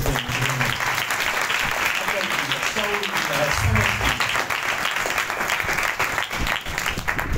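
Applause rises from a church congregation during a pastor's Urdu sermon, a steady, dense clapping that fills the room for several seconds with voices mixed in.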